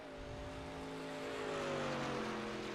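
Race cars running steadily on the track at Homestead-Miami Speedway, a continuous droning engine note with slowly shifting pitch, fairly close and loud throughout with no talk.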